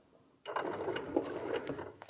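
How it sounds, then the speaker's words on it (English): A sewing machine starts abruptly and runs for a few small stitches, a brief, steady whirring hum with light mechanical clatter, close by and alone. "going to stitch a couple of stitches"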